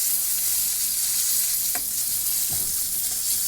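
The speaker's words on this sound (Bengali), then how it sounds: "এখন আমার মাছ ভাজা হয়ে গিয়েছে।" Fish fries in a pan with a steady, bright sizzle of hot oil, broken by a couple of brief utensil clinks.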